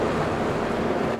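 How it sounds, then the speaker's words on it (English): A loud water wheel turning beside a mill in Farming Simulator 25 gives a steady, dense rushing wash of water close by, continuous and without pause. "I am next to this extremely loud water wheel,"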